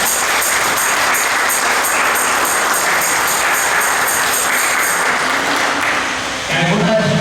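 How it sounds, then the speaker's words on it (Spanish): Steady applause from a congregation at a quinceañera religious mass, sustained and dense for several seconds before tapering, with voices mixed in. "Un aplauso."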